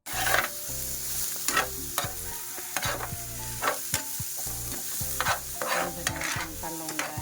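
Tortang talong, an eggplant omelette, sizzles loudly in a pan while a utensil repeatedly scrapes and stirs, producing rhythmic clanks over constant hissing frying.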